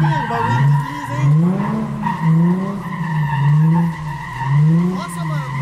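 A drift car skids with long, wavering tire squeals that rise and fall repeatedly over a steady engine drone, loud and close, while people talk excitedly.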